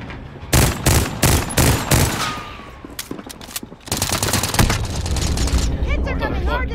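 Rapid automatic gunfire in the video game Call of Duty: Modern Warfare, with loud repeated bursts of shots followed by continuous dense firing and in-game combat noise, while players talk over it.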